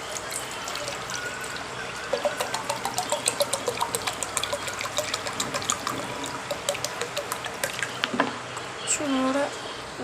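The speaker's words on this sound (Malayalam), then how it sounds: "അങ്ങനെ നമുക്ക് കുറച്ച് വെള്ളം ഒഴിക്കാം" Water poured into a bowl while making sherbet, a close trickling splash with rapid pulsing ripples, then a brief gurgle near the end.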